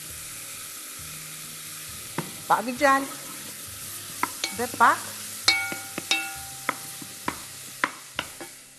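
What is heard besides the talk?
onion and carrot frying in a pot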